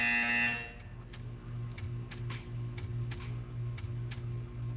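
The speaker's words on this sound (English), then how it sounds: "You will hear a buzzer." An in-game buzzer from Portal 2's test chamber art sequence: a steady low droning tone with a pulsing, rattling texture, broken by sharp ticking clicks repeating about every half second, loud and alone.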